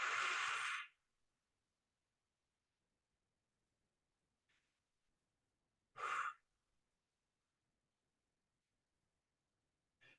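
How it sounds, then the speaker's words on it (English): Deep breathing exercise: a long audible breath at the start, a faint soft breath a few seconds later, a second strong exhale around the middle and a brief breath at the end, with near silence between. "take 3 deep breaths. Breathe, breathe, breathe, breathe. Exhale."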